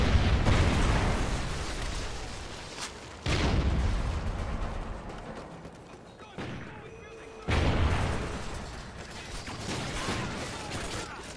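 Rocket explosions and heavy blasts in a military video game, several loud bursts at roughly three to four second intervals with rumbling debris and battle noise between them.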